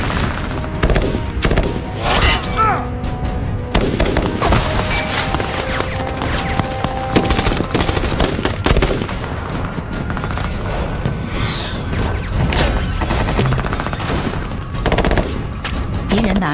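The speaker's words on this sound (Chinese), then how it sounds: "敌人拿着 AK 一顿乱射" Rapid bursts of AK rifle fire sprayed wildly during a nighttime firefight in an action film, loud, dense automatic gunfire continuing almost without pause, with scattered booms mixed in.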